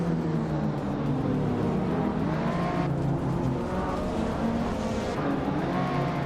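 In a racing video game, a classic 1996 Porsche 911 and a pack of race cars roar along together, with loud continuous engine drone and shifting revs as the cars accelerate, close and sustained with no talking.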